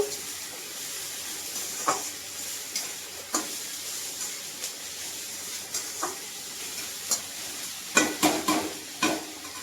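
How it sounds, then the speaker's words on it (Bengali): Food sizzles steadily while being stirred and sautéed in a pan, with sharp spatula scrapes and knocks at irregular moments over the continuous hiss. "দিয়ে ভালো করে নেড়ে ছেড়ে আমি কষিয়ে নেবো"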